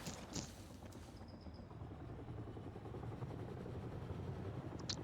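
A steady, low helicopter rotor thrum in Fortnite Zero Build persists throughout at moderate distance, with a few faint clicks and higher tones above it.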